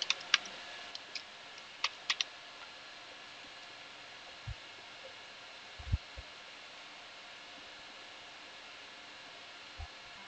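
Typing on a computer keyboard at a Linux terminal, entering an unzip command: sparse, light key clicks in small clusters with longer pauses between them, faint and close over a quiet hiss, with no talking.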